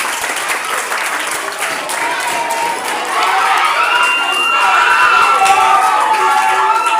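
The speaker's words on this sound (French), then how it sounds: "Applaudissez-le, s'il vous plaît." A crowd applauds a student receiving an honour certificate at a school awards ceremony, loud, steady clapping that swells and continues throughout, with faint cheering and voices mixed in.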